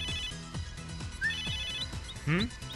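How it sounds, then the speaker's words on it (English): A phone ringtone plays in the video game Megadimension Neptunia VIIR, a short repeating electronic melody pulsing in a steady rhythm, with brief game sound effects and voices alongside. "That's my Endgear's ringtone"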